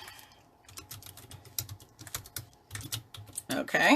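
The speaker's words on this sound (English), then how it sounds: "Need to type book club meeting here." Rapid clicking of computer keyboard keys, typed in quick bursts at close range, with a brief spoken word and a louder rustle near the end.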